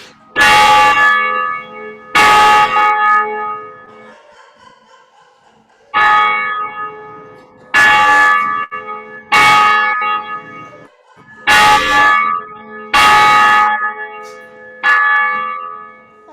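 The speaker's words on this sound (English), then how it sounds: "So you'll hear the bell tower." A church bell tower rings out before a Sunday service, with loud, ringing strikes in an uneven run of pairs and singles, each one sustaining and fading into the next.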